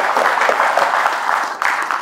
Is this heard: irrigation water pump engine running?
no